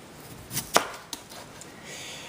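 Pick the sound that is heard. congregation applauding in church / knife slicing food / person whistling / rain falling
knife slicing food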